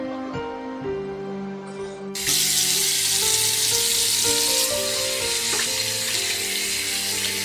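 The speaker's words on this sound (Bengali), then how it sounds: "গাছের গোড়ায় ঢেলে দেয়" Water poured onto the base of a tree in a Bangla fairy-tale cartoon: a sudden steady, hissing rush begins about two seconds in and keeps going over soft background music.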